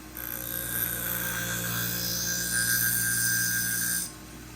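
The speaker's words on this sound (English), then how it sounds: "I'm using the diamond, a 240 grit diamond wheel on the twice as sharp" Barber shears ground on a 240 grit diamond wheel of a Twice As Sharp sharpener, a steady high whine and hiss of steel on the wheel for about four seconds before it stops abruptly.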